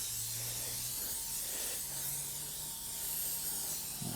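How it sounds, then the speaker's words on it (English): A soft hiss of aerosol cooking spray on a sheet pan, with short quiet bursts against a faint background hum. "We're just going to give it a quick spray so that it comes off nice and easy"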